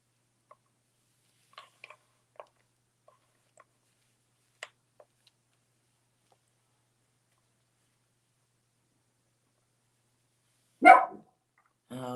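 Dog barks at close range: a few faint scattered ticks and yips early on, then one loud sharp bark near the end followed by another starting just as it cuts off.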